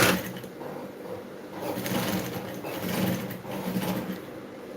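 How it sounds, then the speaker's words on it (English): A sewing machine stitches a dart in fabric while a lining is being sewn, its steady mechanical whirr running close and continuous with slight surges in speed and no talking. "I'm going to also go ahead and sew my dart"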